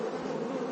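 Honeybees swarm over a frame pulled from a hive, giving a dense, steady buzz that fills the short moment close up, with no voices.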